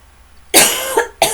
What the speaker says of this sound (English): So, I'm going to cough now, it's coming.